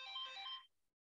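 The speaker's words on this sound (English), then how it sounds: "it is actually my phone, but it was just a timer to tell me that I'm running out of time" A phone timer alarm goes off as a short electronic ringtone, bright and steady for under a second before cutting out, with a faint tail and no voices.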